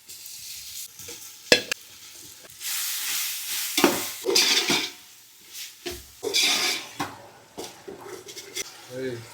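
Boiled sea prawns go into a pan for village-style pulao, with loud bursts of sizzling and repeated scraping stirs in uneven rhythm, and a voice speaking between them.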